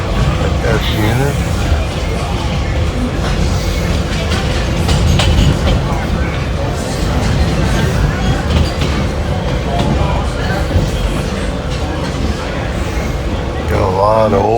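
An Alco switcher locomotive rolls past with a loud, steady rumble and continuous rail clatter that fills the whole stretch without a break.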